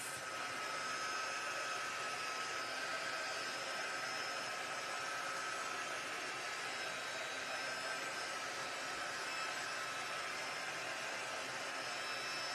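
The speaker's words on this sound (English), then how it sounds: "I'm going to use the heat tool. I just want to dry this." A heat tool blows steadily to dry watercolour paper during a stamping craft session, a constant loud whooshing hiss with no pauses and no talk.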